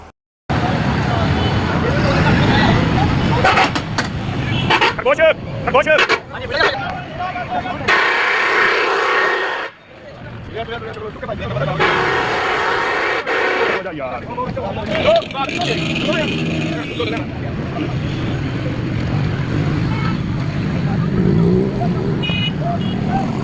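Busy bus stand in Pakistan, with steady traffic rumble and engines mixed with crowd chatter and voices throughout, loud and continuous, with a brief drop in noise partway through.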